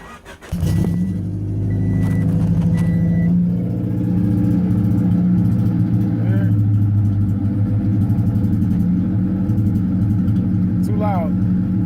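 A Honda Del Sol fitted with a new eBay exhaust header starts up and idles with a loud, raspy, droning rumble close by, a brief crank at the start and slight revs later, with a voice talking over it.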